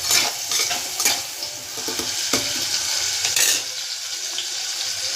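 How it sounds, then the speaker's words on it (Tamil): Food sautéing in sesame oil with a spoon stirring and scraping in the pan, a steady bright sizzle broken by clinking strokes, close and fairly loud, with no talking. "இது நல்லா வதக்கணும். நான் எப்பவுமே நல்லெண்ணெய் தான் வைப்பேன்."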